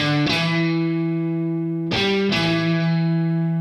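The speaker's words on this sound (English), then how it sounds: "Now you can hear the reverb of my amp trailing off" Sustained distorted electric guitar notes from a riff ring out, with a couple of fresh picks partway through, each note hanging and decaying in amp reverb.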